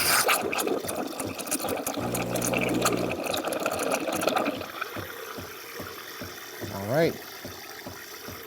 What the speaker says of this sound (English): there we go, we're frothing.